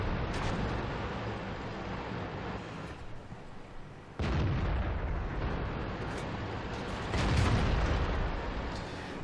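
Tank cannon fire in the World of Tanks video game, heavy booming shots with deep rumbling tails, two strong blasts a few seconds apart over continuous low battle noise; no talking.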